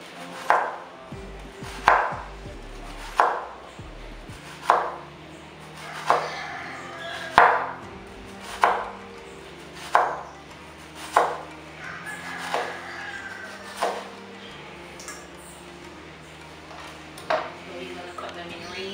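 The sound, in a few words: knife slicing vegetables into thin circles for escovich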